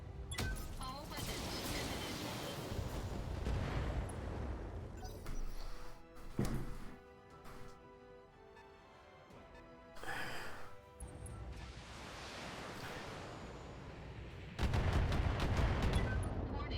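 Mech weapons fire in the video game BattleTech, heavy booming blasts and rumbling volleys in several bursts with quieter gaps, closing in a loud sustained barrage, with a voice speaking under part of it.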